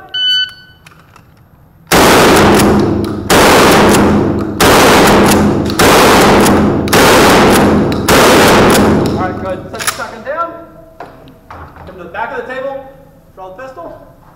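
Shotgun fire at a Halloween 3-gun shooting stage, six loud, closely spaced blasts at about one-second intervals, followed by quieter shuffling, clicks and voices.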